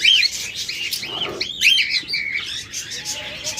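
Budgerigars and lovebirds chirp in a busy flock, quick high tweets and warbling calls overlapping continuously and close by, with no talking.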